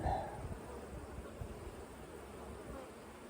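Honey bees humming around an open hive with honey boxes, a faint, continuous buzz under soft rustling close by.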